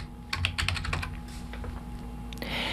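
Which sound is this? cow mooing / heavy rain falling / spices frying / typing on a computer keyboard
typing on a computer keyboard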